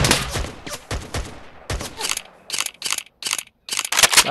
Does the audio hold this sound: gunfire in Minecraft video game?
yes